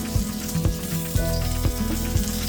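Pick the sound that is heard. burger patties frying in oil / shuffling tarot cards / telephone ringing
burger patties frying in oil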